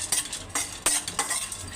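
A spoon scrapes and stirs grated coconut roasting in a kadhai for fish curry, four or five distinct metallic strokes with faint sizzling between them, close and without voices.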